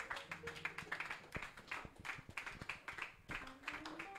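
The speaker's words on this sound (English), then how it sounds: "Let's put our hands together" A church congregation at a prayer and fasting service in Ghana claps hands in quick irregular bursts, a steady patter of many palms at moderate volume.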